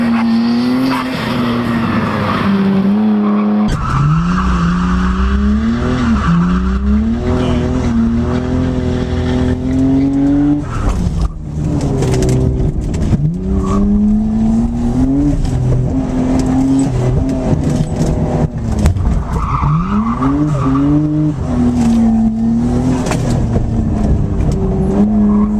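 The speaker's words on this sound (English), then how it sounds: "We'll wrap things up with this Nissan Skyline R32." A turbocharged all-wheel-drive Nissan Skyline R32 drives hard at a charity exotic car ride event, its engine loud and continuous with rising and falling revs through repeated gear changes and brief tire squeal, and no talking.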